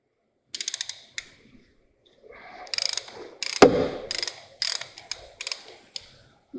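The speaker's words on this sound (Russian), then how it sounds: "откручиваю сначала большой трещоткой" A large ratchet clicks in quick bursts while unscrewing a bolt during intake manifold and EGR valve work on an Opel Zafira A, with one sharper metallic clunk midway and brief pauses between strokes.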